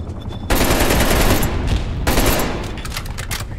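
Loud, rapid automatic AK rifle fire from the video game Call of Duty Black Ops Cold War, two dense bursts of close gunshots with a short gap between them.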